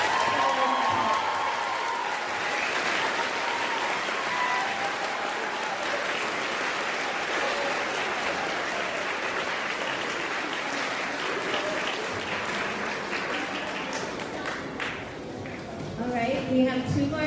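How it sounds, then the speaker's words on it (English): Sustained audience applause fills a high school band concert hall, steady and dense clapping from a large crowd, with some voices and a few louder claps near the end. "Please give a round of applause."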